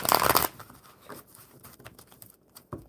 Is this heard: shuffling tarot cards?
yes